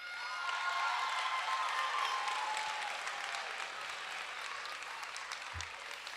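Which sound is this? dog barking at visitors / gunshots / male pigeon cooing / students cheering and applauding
students cheering and applauding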